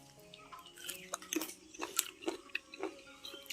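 A very ripe, sweet fruit is bitten and chewed up close in a village home, giving soft, moist, irregular crunches and squelches with no talking.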